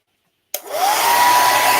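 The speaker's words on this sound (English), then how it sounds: "I'm going to hit it with a hairdryer a minute because I want it to come" A hair dryer switches on abruptly after silence and blows with a steady, loud, close whooshing roar and a rising whine that settles into a constant tone.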